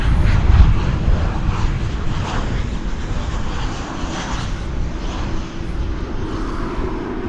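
An American Airlines Boeing 737-800 arriving from Mexico City at DFW airport, heard as a steady, loud jet engine roar that holds evenly throughout, with no talk over it.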